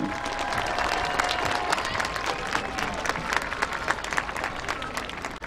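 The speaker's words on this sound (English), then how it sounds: "Let's have a round of applause for all our candidates, their families, and our reigning king and queen." Crowd at a 2022 high school homecoming football game applauds steadily and loudly for the homecoming court candidates, a dense, continuous wash of clapping with scattered cheers, close and sustained throughout.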